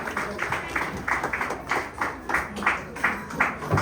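An audience at an award function claps in steady rhythmic waves that swell and fade about every half second for several seconds, moderately loud and close.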